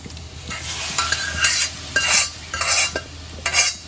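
Mung beans go into a pot of curry with buttermilk and are stirred: loud, close scraping and sloshing strokes in rhythmic bursts over a low steady simmering hiss.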